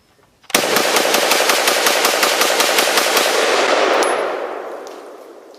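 FN FS2000 rifle firing 5.56 rounds at a barrel outdoors, a loud rapid string of about twenty close shots followed by a metallic ring and a fading echo.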